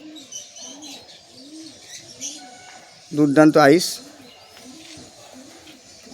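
Breeder pigeons kept for long-duration flying, sitting on eggs and raising young, give repeated soft rhythmic coos throughout, with a brief louder burst of speech partway through.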